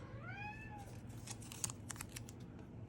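A cat gives one faint, drawn-out meow at the start, followed by a few light, scattered taps in an otherwise quiet room.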